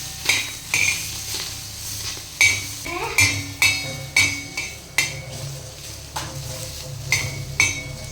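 Chopped onions fry in hot oil for a South Indian tempering, a soft sizzle broken by about a dozen sharp metallic clinks as a spatula stirs the pan in an uneven rhythm.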